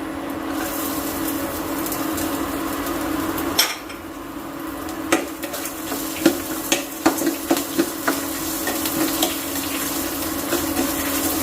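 Chopped ginger and green chillies frying with cashews in a pan, a steady sizzle with a spoon scraping and clinking repeatedly against the pan, close and clear.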